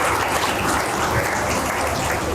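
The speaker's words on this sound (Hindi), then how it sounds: "इनके लिए तालियां बजाएं" Audience applause at a school education event in Pakistan, a dense continuous clapping that stays loud and even throughout.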